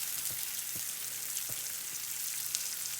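Apple slices frying in a pan give off a steady, close sizzle with faint crackles and a few soft taps throughout.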